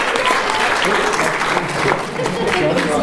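Crowd applause at a blogging competition, continuous many-handed clapping that holds steady throughout with a brief dip near the end, faint voices mingling underneath.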